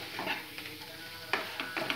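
Spices with a pinch of asafoetida frying in oil for Kashmiri mutton rogan josh, stirred with a spatula: soft sizzle broken by a few sharp scraping strokes, fairly quiet and close.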